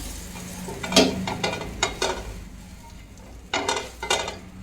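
Halved vada pav buns heating in a hot pan with garlic chutney, giving soft sizzling and scattered scrapes and clinks as they are moved and stirred, close by with no talk.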